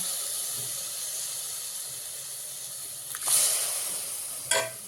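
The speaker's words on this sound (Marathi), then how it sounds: "तेल सुटेपर्यंत आपण याला चांगलं भाजून घेऊया मसाला" Masala paste roasting in oil for a village-style mutton curry, with a steady soft sizzle and hiss, a couple of brief louder stirring bursts near the end, no talking.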